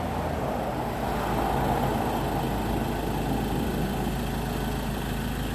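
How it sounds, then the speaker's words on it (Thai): A car engine idles with a steady, low rumble, nearby and continuous, with no voices. "ฟังแต่เสียงเครื่องก็รู้เนี่ย"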